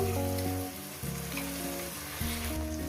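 Onions fry in a pan as masala paste goes in, giving a steady sizzle with a few bursts of hissing. A low rhythmic tone runs underneath throughout.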